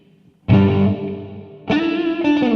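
Guitar played through a Mooer Ocean Machine dual delay/reverb pedal with the reverb engaged: two strummed chords, each ringing out into a long, washy reverb tail, the first decaying before the second is struck.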